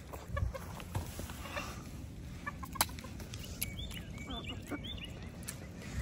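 Several chickens cluck softly nearby over a low outdoor background, with scattered short calls and a few sharp knocks.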